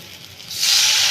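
A sudden loud sizzle erupts as water hits a hot pan of frying mashed green peas for a fish curry, a broad steamy hiss that rises sharply partway through and holds.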